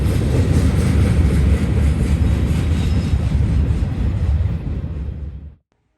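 Norfolk Southern freight train 171 heading westbound under the Conrail tri-light signal bridge in London, loud and close with heavy rolling wheel rumble and clatter, ending abruptly into silence.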